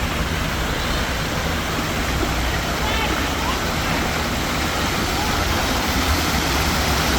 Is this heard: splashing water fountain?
yes